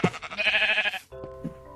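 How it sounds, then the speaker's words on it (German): Sheep in the Minecraft video game bleat loudly and close, one long wavering bleat followed by a shorter, steadier second call. "Ich kann Schafe erzeugen!"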